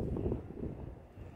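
Wind blows outdoors on a bright, clear day among flowering plants, producing a steady low rumble of gusts buffeting the microphone, with no voices.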